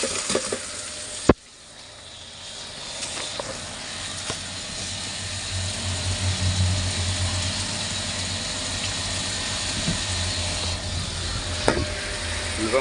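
Chopped onion pieces hit hot tempering oil with a sharp crackle, then settle into a steady, loud, continuous sizzle and frying hiss close by, with a few light utensil clicks and no talking.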